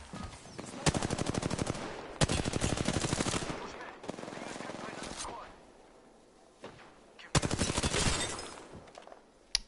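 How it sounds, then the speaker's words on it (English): Rapid machine-gun bursts in a video game, several long rattling volleys separated by brief pauses, loud and close, with a player's voice heard alongside. "Darn shots fired and they're hitting me."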